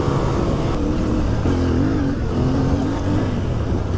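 A Moto 450 motorcycle fitted with a KTM 390 Adventure engine revs up close, a loud continuous engine note with pitch swells and dips across a few seconds, no speech.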